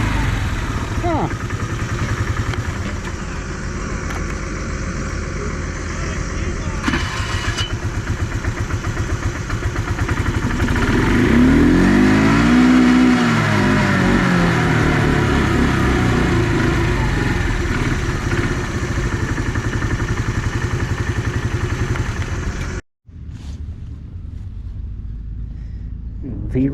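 A combine harvester's engine runs loud and steady, with a throaty drone that swells briefly midway. There is a short dropout near the end before the running resumes.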